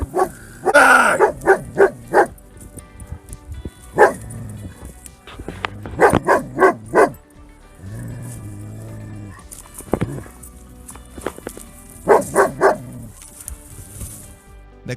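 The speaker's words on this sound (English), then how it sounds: "the dog does everything possible to protect its owner and scare the cougar" A Labrador barks in short repeated bursts at a cougar on an outdoor hiking trail, loud and close, with whimpering and yipping between volleys and quieter low growling stretches.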